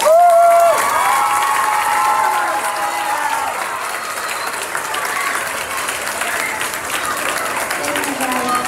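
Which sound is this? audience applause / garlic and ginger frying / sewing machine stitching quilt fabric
audience applause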